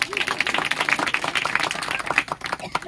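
Wedding guests clap together in a burst of scattered applause that runs steadily throughout, with voices murmuring underneath.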